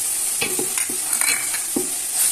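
Finely chopped ginger and garlic stir and fry in a hot pan, a steady loud sizzle broken by several short scraping strokes of the spoon, close up and with no voices.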